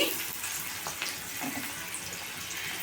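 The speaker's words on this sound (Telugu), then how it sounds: "మంచి గోల్డెన్ బ్రౌన్ కలర్లో వేపుకోవాలండి ఉల్లిపాయ ముక్క వేగడానికి" Chopped onion and green chillies fry in a pan toward golden brown, giving a steady, close sizzle with a soft watery hiss throughout and no talking.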